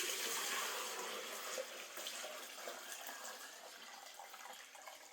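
Water runs steadily from a tap into buckets during a winter storm, a broad continuous rush that eases slightly as the containers fill.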